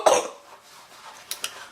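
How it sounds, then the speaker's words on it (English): A single short cough from a woman comes at the very start, followed by quiet room tone and a couple of faint clicks. "Sorry about my cough."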